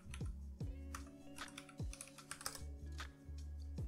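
Fingers typing a password on a computer keyboard: a quick, uneven run of close, crisp key clicks and taps, with no talking.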